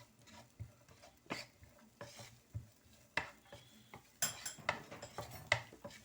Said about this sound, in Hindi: प्याज डालूंगी 1 टेबल स्पून बारीक कटा हुआ है, ठीक है। अब इसको करके हल्का सा सौते करती हूँ।